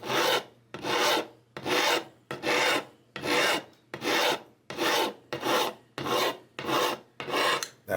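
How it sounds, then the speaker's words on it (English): A metal file dresses nickel frets on a Stratocaster guitar, sounding as about a dozen rhythmic, even rasping strokes close up, each separated by a short gap, with no voices. "That file made quick work of these nickel frets."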